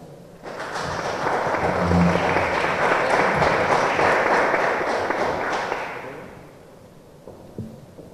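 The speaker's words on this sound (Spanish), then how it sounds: "Le damos la bienvenida con un fuerte aplauso." An audience at a family law conference gives a speaker a warm welcome, applause swelling quickly, holding strong for several seconds, then fading away into quiet room noise with a stray thump near the end.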